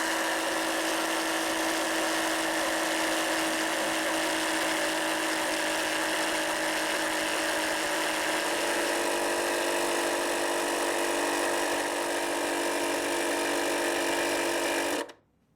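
The engine of a 2001 Ariens 824 snowblower runs steadily with a loud, even buzzing drone for about fifteen seconds, then cuts off abruptly.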